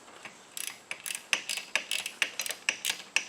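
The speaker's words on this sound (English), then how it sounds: "Then we can tighten those down with a ratcheting wrench." Ratcheting wrench tightening a nut on a detachable winch mount for a Badlands 2500 winch, a steady run of close, crisp clicking bursts repeating in quick rhythm without talk.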